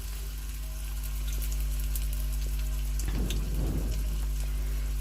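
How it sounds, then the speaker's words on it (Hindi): Garlic tadka in hot oil in a pan gives a steady sizzle and crackle that swells briefly as the spices are stirred, under a constant low hum of the stove or fan. "थोड़ी थोड़ी देर पर चलाते हुए अच्छी तरह से तड़के को तैयार कर लेना है"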